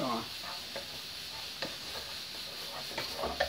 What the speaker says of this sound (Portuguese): O alho não pode queimar, o alho tem que ficar douradinho